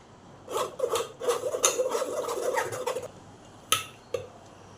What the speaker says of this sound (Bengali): এবার স্টেনারে করে রসটাকে ছেঁকে নেব।